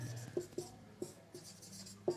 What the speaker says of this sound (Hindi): यही लिख रहा हूँ, देखिए